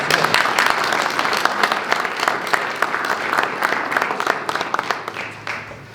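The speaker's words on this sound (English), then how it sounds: "So please, let's give them a round of applause." Audience applause for students at a history department recognition ceremony: steady, dense clapping from a sizeable crowd, close and loud throughout, fading slightly at the end.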